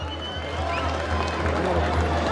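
A crowd at a jaripeo rodeo in Morelos applauds with steady, dense clapping and cheering that fills the whole moment, while a low hum runs underneath.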